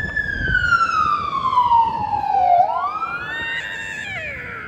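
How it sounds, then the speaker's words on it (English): City sirens wail outside, a long sweeping tone gliding down in pitch and then rising again, moderately loud and slightly distant over a background of street noise. "Don't you love these sirens too?"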